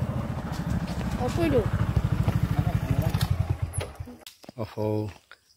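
A motorcycle engine idles nearby with a rapid, even put-put rhythm, then shuts off as the bike is parked at a park; a voice speaks briefly afterward.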